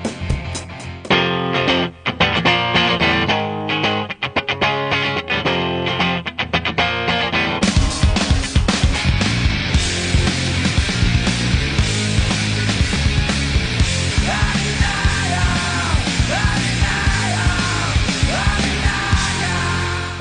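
A rock song plays loud and dense on a rock radio show, with distorted guitars and pounding drums filling the whole stretch and no talk over it.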